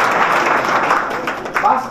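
An audience at a motivational speech applauds together, a steady dense clatter of clapping that stays loud and close throughout, with some voices mixed in.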